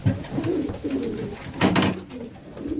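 Pigeons of a Polish loft coo in low, throaty bursts at close range, several calls overlapping unevenly, with a brief sharper knock partway through.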